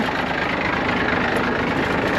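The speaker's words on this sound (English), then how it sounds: "It's idling though. Sounds good, not knocking or anything like it's missing." A Case tractor's diesel engine idling smoothly, a steady, even rumble heard up close and fairly loud throughout, with no voices over it.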